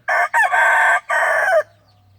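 A gamefowl rooster crows loudly nearby on a farm, one long multi-part call with a brief break in the middle, ending in quiet.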